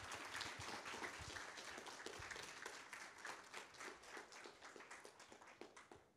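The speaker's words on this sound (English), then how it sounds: "Let's hear a round of applause for Doc here one more time" An audience claps for Doc at a CURE 2020 event, sharp, closely packed hand claps that gradually thin and soften toward the end.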